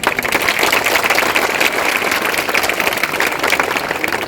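Loud, dense clapping from a crowd of students at an inter college's Uttar Pradesh foundation day program carries on evenly for several seconds.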